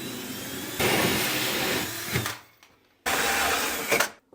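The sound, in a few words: drilling a hole in a bathroom cabinet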